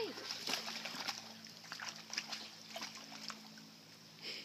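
A dog splashes while swimming in a deep spot of water, with intermittent sloshing and splatters scattered across the stretch, fairly faint, alongside a voice speaking.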